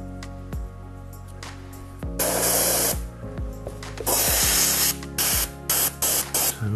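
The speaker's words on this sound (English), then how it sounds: "So this is just water that I will spray" A Badger 200 NH airbrush spraying clean water in repeated short and longer bursts of hissing air, each burst starting with a sharp thump, close and loud with brief pauses between.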